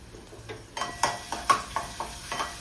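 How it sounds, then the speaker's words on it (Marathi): Garlic sautéing in hot oil, soft sizzling under a series of sharp spatula taps and scrapes against the pan at a rough, uneven rhythm. "लसूण चांगला परतून घेऊया।"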